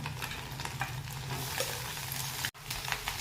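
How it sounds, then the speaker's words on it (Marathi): Egg fried rice with red chili and salt stir-fried in a pan: a continuous close sizzle with repeated scraping stir strokes, broken by one brief cut near the end, and nobody speaking. "त्याला छान पैकी परतून घ्यायचं"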